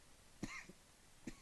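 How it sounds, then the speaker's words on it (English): A person coughs sharply twice, about a second apart, with a faint throat sound between, close and alone in a quiet room. "don't know why I'm coughing so much."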